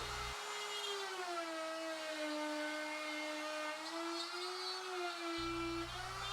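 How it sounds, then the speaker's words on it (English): A plunge router with a 1/4-inch spiral bit cuts into plywood, its power set by a foot pedal; a steady, high, whining hum holds throughout, dipping slightly in pitch as it bites, fairly quiet and alone. "So I plunged down halfway through the plywood with a 1/4-inch spiral bit"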